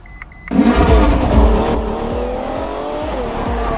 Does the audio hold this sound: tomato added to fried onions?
no